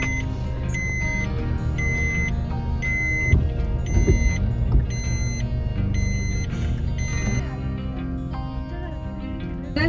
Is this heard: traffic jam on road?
yes